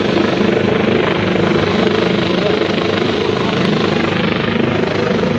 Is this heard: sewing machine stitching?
no